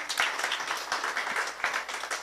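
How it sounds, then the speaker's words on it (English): An audience at a hosted event applauds after a guest is introduced, a moderate wash of many hands clapping with uneven swells and a few sharper claps standing out throughout. "Please, a round of applause."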